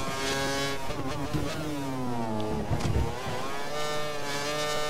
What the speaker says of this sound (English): We think the car behind is running on full revs.